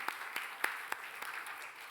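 Congregation at a Sunday church service applauding, sparse, soft clapping with a few distinct louder claps standing out over a faint, brief patter.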